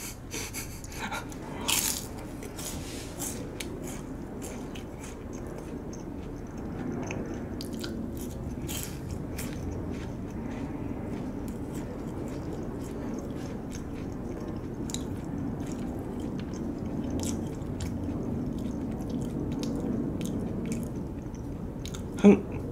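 Someone chews and eats food close to the mic, with soft, wet, continuous mastication sounds and occasional crunchy bites, quiet and without talk.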